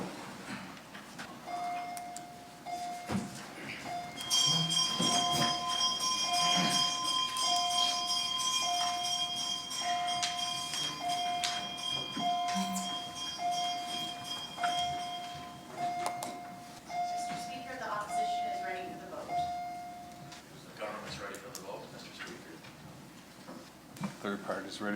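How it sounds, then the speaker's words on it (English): A division bell rings in a provincial legislative assembly, a sustained steady tone held for many seconds under murmuring voices and light room noise. "Sergeant at Arms, you may ring the bell."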